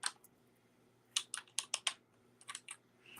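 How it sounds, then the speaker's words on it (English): Typing on a computer keyboard during an online discussion, with bursts of crisp, close key clicks in short clusters separated by quiet pauses, no talking over it. "While I'm typing that in"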